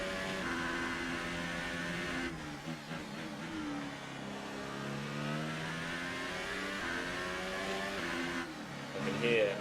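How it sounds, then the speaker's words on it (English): A Formula 1 race car engine in the video game F1 2018, at the Australian Grand Prix, hums and revs steadily throughout, with rising and falling pitch sweeps suggesting gear changes, sustained and fairly loud. "Hear Leclerc's engine behind me now, which is concerning"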